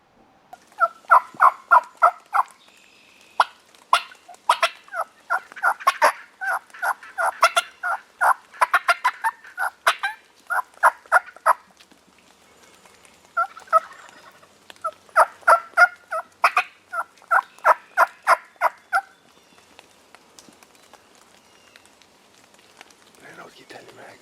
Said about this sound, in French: quelques champs plus loin, un beau groupe de dindons